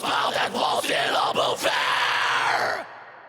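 Screamed black metal vocal with a long Roomworks SE five-second reverb at a low mix, a sustained harsh howl with a few pitch shifts that trails into a short reverb tail.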